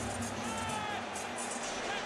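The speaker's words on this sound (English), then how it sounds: "It's a big crowd." Before an Arsenal versus Barcelona football match, a big stadium crowd fills the air with a steady, loud roar of massed voices and general hubbub, with no distinct chants or peaks.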